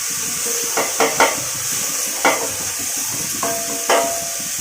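Poha being stirred in a pan with grated carrot, cucumber and coriander, giving a few distinct scraping clatters of a spoon against the pan over a steady faint sizzle, with no talking.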